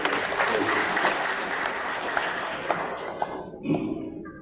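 Audience applause at the opening ceremony of an English teachers' forum in Blitar, a steady dense clapping that fades out near the end, leaving a brief quieter tail.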